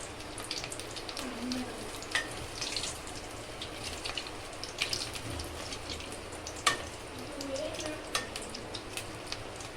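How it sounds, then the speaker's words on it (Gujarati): Batter-dipped balls frying in oil over a low flame give off a steady, soft sizzle throughout, dotted with occasional light clinks and scrapes of a spoon turning them. "બધા આવા ગુલાબી થઈ જાય ત્યાં સુધી લો ફ્લેમ ઉપર આપણે તળાવવા દઈએ"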